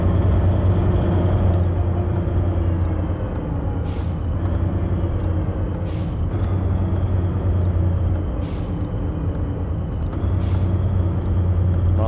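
A heavy truck engine drones steadily and loudly in the Truck & Logistic Simulator video game, with periodic faint beeps and brief hissing bursts over the continuous motor rumble.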